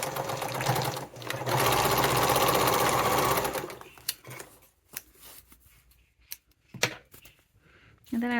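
A sewing machine back stitches a wallet seam in a steady, close whirring run of rapid needle strokes that stops partway through, followed by scattered clicks and handling sounds.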